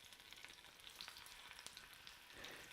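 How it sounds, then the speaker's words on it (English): Shredded pork taquitos fry in hot oil, giving a faint, continuous crackling sizzle with scattered pops and no talking. "You can hear it sizzle."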